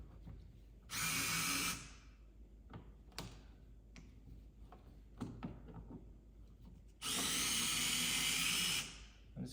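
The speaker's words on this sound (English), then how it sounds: "So now what we're gonna do is unscrew the switches off the wall here." A power drill unscrews light switches from a wall, with two loud, close whirring bursts about a second long at the start and near the end, and small clicks and handling knocks between them.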